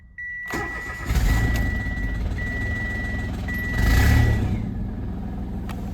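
A Mitsubishi Mirage engine cranks and starts with the turn of a key, then settles into a steady idle, loud and close, with a thin electronic warning tone sounding during the start and no talking.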